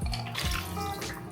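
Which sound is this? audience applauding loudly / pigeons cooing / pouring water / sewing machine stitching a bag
pouring water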